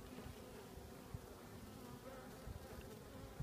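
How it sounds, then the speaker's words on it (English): Honey bees buzzing inside a hive around their queen during a late-season hive split, a steady dense hum up close with no voices. "just look at the bees surrounding her"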